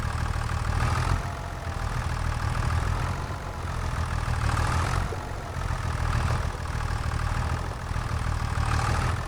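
Tractor engine in Farming Simulator 25 idling and rumbling steadily with a deep low hum, swelling and easing in gentle cycles, close and continuous with no talk.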